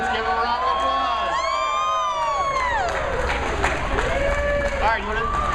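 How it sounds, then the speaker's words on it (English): Audience applause and cheering at a live event after an alpine horn attempt, a steady wash of clapping and shouts with voices over it. "let's give him a round of applause"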